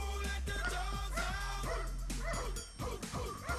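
A Newfoundland dog at a canine training school barks repeatedly, a run of deep, close barks and yips with whimpering notes, over a steady low hum and without talk.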